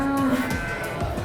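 A male feeder bull lows at a livestock market in Jember, one loud close moo held for about a second, with market noise around it.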